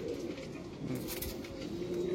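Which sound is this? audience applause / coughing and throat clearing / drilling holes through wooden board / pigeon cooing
pigeon cooing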